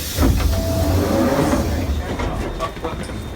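London Underground D78 Stock train pulling into Richmond station, a steady loud rumble of wheels and motors with faint squeals, fading slightly as it slows at the platform.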